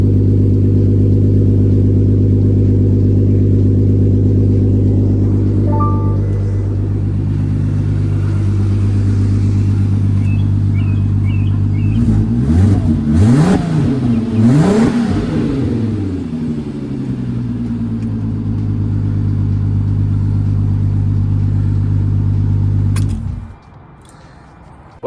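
A turbocharged MK5 Golf R32 through a custom 3-inch exhaust idles with a deep, steady drone, then rises into several revs mid-way before settling back and cutting off near the end; no talking.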